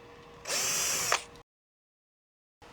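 A power drill driving out a screw from a WINGBO 48-inch flush mount ceiling fan with light, one loud whirring burst of about a second that stops abruptly, followed by silence.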